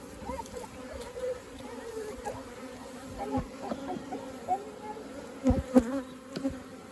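Honey bees buzz in a dense drone around an opened hive during an inspection, a close, continuous hum with louder passes and knocks of frames, with a faint voice in the background.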